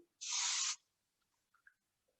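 A single short burst of REF Stockholm aerosol hairspray onto an arm, a bright hiss lasting about half a second, followed by faint small clicks and near silence.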